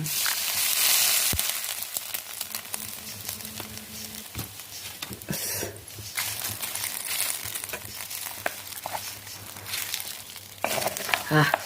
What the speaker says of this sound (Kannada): ಬೆಳ್ಳುಳ್ಳಿದ ಒಗ್ಗರಣೆ